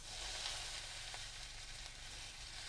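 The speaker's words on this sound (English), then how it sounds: "I'm adding a little bit of olive oil in. And now I'm going to add the minced onion." Minced onion sizzles in olive oil in a pan over medium heat, a steady, close, hissing fry that runs evenly throughout, then a sharp clatter at the very end.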